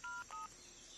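Two short touch-tone telephone keypad beeps, clear and close, dialed in quick succession to call a police checkpoint on Poonamallee road, followed by a faint steady hiss.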